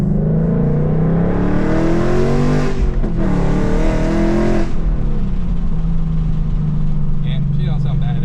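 A car engine revs loudly and continuously, its pitch climbing twice with a brief dip between rises before settling into a steady idle-like drone, close and alone.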